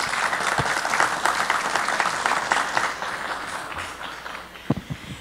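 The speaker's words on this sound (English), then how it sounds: "A big applause to Professor Cindy Lawrence." Audience applause at a mathematics museums panel, a sustained dense clapping from a crowd that thins out near the end with a few final louder claps.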